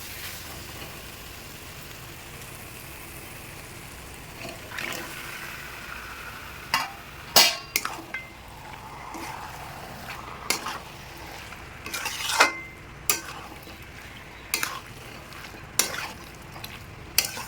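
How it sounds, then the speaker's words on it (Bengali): Chicken pieces stirred in a pan of spiced oil, village-style chicken kosha cooked without water; a soft continuous sizzle under intermittent scraping and clinking spoon strokes. "এবার আমি এটার মধ্যে চিকেনটা অ্যাড করে দেবো"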